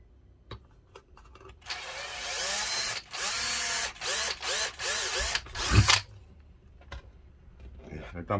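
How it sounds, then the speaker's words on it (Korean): A power drill bores a hole in a series of loud whirring bursts, each starting and stopping with short pauses between them, followed by clicks and handling noises once the drilling stops. "정중앙에 뚫기 위해서 반대에서 먼저 구멍을 하나 내주고요"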